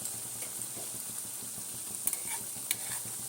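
Drumstick flower fritters frying in a pan of hot oil give a steady, even sizzle throughout, with a couple of faint taps near the end.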